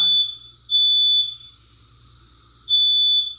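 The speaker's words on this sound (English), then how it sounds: "it's not Ravyn's house unless I'm setting the fire alarm off" A smoke alarm set off by cooking on cast iron in a home kitchen gives two long, loud, piercing beeps separated by a pause, with a faint hum underneath.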